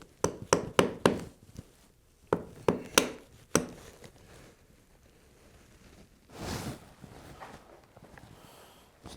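Hand chisel chopping waste wood from a hand-cut dovetail joint: a quick run of sharp, close mallet-driven knocks, a pause, another burst of strikes, then softer scraping and rustling of wood chips.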